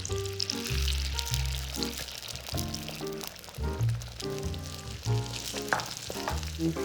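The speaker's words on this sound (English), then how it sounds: "We'll melt a couple tablespoons of butter in the pan, and you wanna go ahead and get all of your eggs in there" Eggs cook in melted butter in a pan for a soft scramble, a continuous soft frying sizzle with light stirring, set under prominent background music.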